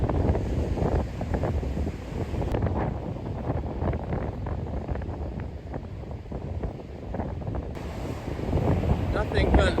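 Strong, gusting wind buffets the microphone on a cold, remote beach, a loud continuous roar with the surf mixed in, rising and easing throughout.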